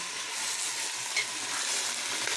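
Potatoes hit hot oil in a frying pan and give off a steady, dense sizzle, close and continuous, with faint stirring and no voices.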